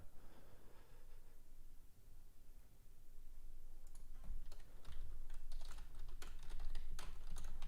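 Rapid keyboard typing in bursts of clicks, fairly close, growing busier toward the end over a low background hum; no speech.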